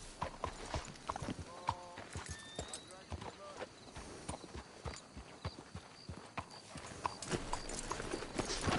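Horses clip-clop in a PS4 game, with uneven hoof strikes close by, an occasional whinny and characters talking over the hoofbeats throughout.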